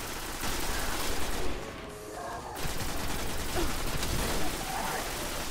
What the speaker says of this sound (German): Schießt hier aber ganz schön mutig rum.